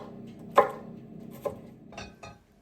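A knife roughly slices vegetables on a board for a lamb shank dish, with four separate chops spaced over a quiet background.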